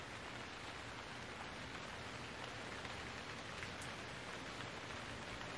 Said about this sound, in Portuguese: E essa chuva não passa, né, mano?